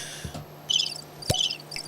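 A crickets-chirping sound effect plays as short bursts of high chirps in a quick irregular pattern, close and fairly clear, broken by a couple of sharp clicks.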